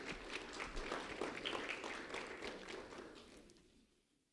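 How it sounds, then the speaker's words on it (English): An audience applauds at a school recognition event, a fairly faint patter of clapping that holds steady and then fades away over about four seconds. "Zenteria Ellaby, a round of applause for Zenteria Ellaby, please."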